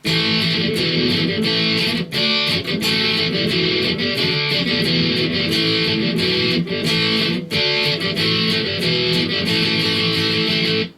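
Distorted electric guitar plays the verse of a song, steady and loud with a dense full-band backing jam track, rhythmic chord strums with brief breaks.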